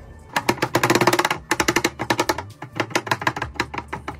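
Garlic is chopped with a small knife in rapid bursts of close, crisp taps on a board, fast rhythmic runs broken by short pauses.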